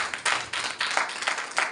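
A church congregation claps loudly in rapid, uneven bursts of many hands together, close and energetic over a short span.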